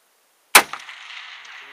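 A single sharp rifle shot from an 1889 rifle at a shooting range, loud and close, bursting out of silence and trailing into a long reverberant decay with no talk.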